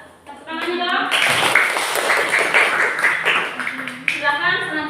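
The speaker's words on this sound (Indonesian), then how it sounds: "Tepuk tangannya dong." A classroom group claps together for several seconds, fairly loud and close, with children's voices talking over and around the applause.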